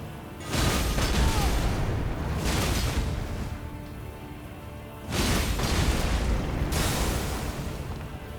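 Explosions in a video game come as two loud, broad roaring bursts, each swelling up and then rumbling for a few seconds before easing off.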